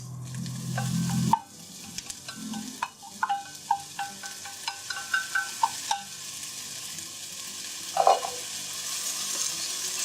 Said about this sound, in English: now add the rice